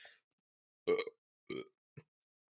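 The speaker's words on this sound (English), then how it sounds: "I gotta stop burping on pod." A man lets out a loud, close burp, then two shorter, softer burps follow after brief pauses, with no talking over them.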